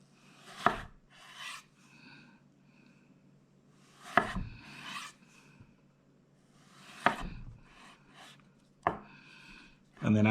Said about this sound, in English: we're going to go into 1/2 inch cubes, okay? And I'm doing the same thing, square the potato out, just like so.